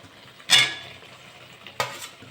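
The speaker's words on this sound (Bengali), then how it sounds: "আমি এবার আলুগুলো দিয়ে দেবো।" Potatoes added to a pan of spice masala for a chicken-skin and potato curry, sharp clattering drops and scrapes with a spoon over a low background sizzle, three distinct bursts, no voice.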